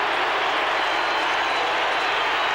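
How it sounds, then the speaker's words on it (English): A large crowd at a 1987 VFL football match between Carlton and Melbourne roars in a dense, sustained wash of mixed booing and cheering, loud and unbroken. "The booing mixed with cheering."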